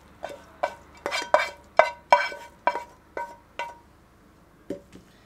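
A spoon scrapes and clinks against a pot as rice filling goes in over layered vine leaves for yaprak sarması, a run of close metallic taps in an uneven rhythm, then a pause and two softer knocks.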